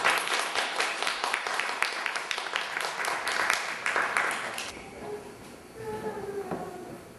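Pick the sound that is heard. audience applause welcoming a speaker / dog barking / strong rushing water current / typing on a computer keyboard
audience applause welcoming a speaker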